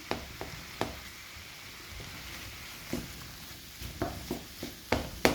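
Meat and onions stirred and frying in a pan for a Nigerian meat pie filling, a quiet steady sizzle broken by scattered clicks and scrapes of the spoon against the pan.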